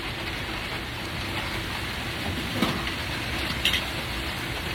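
Steady rain pours outside near an outdoor kitchen in Cubao, a dense, even hiss with a few louder drips, close and continuous, with no talk.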